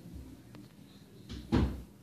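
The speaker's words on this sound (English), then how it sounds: "Let me answer the door." A door being opened, a brief soft creak followed by a muffled thump, quiet and close in an otherwise hushed interior.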